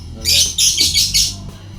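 A female lovebird calls in a quick series of shrill, raspy squawks, close and loud, over a low background hum.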